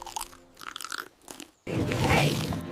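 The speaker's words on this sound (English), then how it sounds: "He can't hear me over the crunching!" A cartoon monster crunches and chews loudly, a burst of dense, close crunching that starts abruptly after a quieter stretch and keeps grinding without pause.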